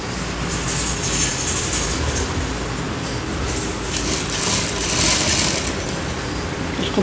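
A sewing machine stitches a folded langot, a wrestler's loincloth, with a fast, continuous mechanical clatter that runs steadily for several seconds and swells slightly near the end.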